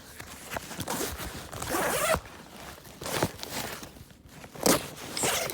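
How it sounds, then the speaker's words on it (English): A zipper on a U-shaped backpack opening is drawn open in several short, rasping pulls with pauses in between, close by and fairly quiet. "they've done a U-shaped zipper, and you can unzip that."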